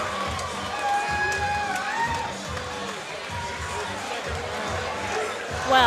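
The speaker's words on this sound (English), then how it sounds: "The crowd is still chanting Tony" A fight-night crowd at a Kansas City Fighting Alliance event roars and chants the fighter's name Tony in a rhythmic, sustained wall of voices, with whistles and shouts cutting through.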